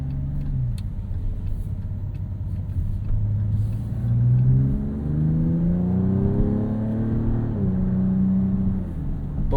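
A Dodge Charger Scat Pack with its Hurricane inline-six accelerates hard, the engine note climbing through the gears with a rising whir and rumble, heard from inside the cabin without talk.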